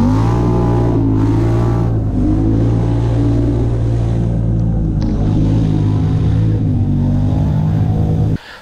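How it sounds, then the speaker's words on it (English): A Polaris Sportsman 850 XP ATV engine and exhaust rev loudly up close, rising and falling in throaty surges of steady rumble that cut off abruptly at the end, with no talking. "Now let's get this friggin' exhaust going down here."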